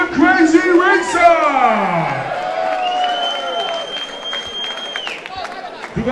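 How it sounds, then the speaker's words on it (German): A crowd applauds and cheers at a motorsport team party celebrating winners, with a loud, animated voice carrying over the clapping and whoops throughout. "Einen riesen Applaus für die Motorsportbote"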